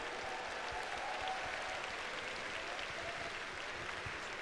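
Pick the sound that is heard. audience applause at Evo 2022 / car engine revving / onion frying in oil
audience applause at Evo 2022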